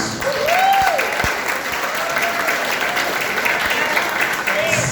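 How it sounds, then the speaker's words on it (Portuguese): An audience at an education talk breaks into continuous applause for the education staff, with voices and a brief whistle-like tone mixed into the clapping. "eu queria pedir uma salva de palmas para todas essas pessoas"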